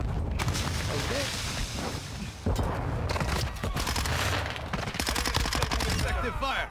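Rapid bursts of video game gunfire rattle loudly and continuously through a shoot house map, overlapping rounds forming a dense, sustained fusillade with sharp cracks near the end.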